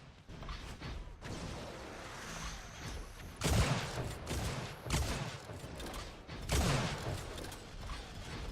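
Sniper rifle shots ring out down a hallway during a competitive video game tournament match. Several sharp, loud cracks come at irregular intervals over a faint, busy mechanical background, with no voices.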